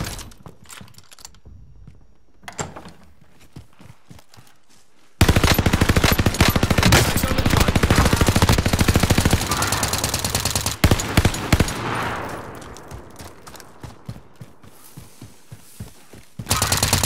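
Gunfire in the Call of Duty: Modern Warfare video game: sparse shots at first, then a loud, dense automatic burst lasting several seconds, followed by scattered closer shots and rattles.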